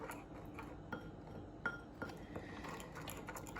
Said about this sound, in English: then we just stir this up. Get those flavors all together